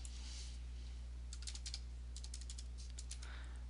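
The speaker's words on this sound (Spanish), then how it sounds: "escribimos el nombre de usuario" Quick bursts of keystrokes on a computer keyboard as a username is typed, clustered in short rapid runs over a steady low hum, fairly close and quiet, with no talking.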